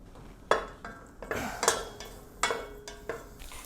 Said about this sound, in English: I'm going to put my bacon in because I want to render that off first.